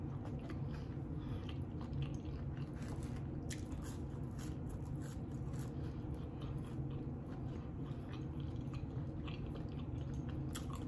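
Chewing and crunching on a Whataburger chili cheese burger topped with corn chips, steady close-up mastication with moist squishy bites running throughout, no talking.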